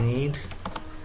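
Several quick keystrokes on a computer keyboard, crisp separate clicks in a short burst, close and clear over a low background hum.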